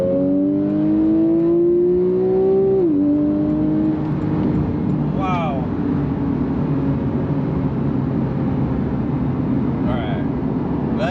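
A Porsche 911 Carrera GTS with PDK gearbox accelerates hard, its engine note climbing steadily, dropping briefly at an upshift and then pulling again, loud and close under continuous road and wind roar.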